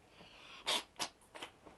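A small animal sneezes near the listener, a few short sharp snorting bursts in quick succession, fairly faint against a quiet room.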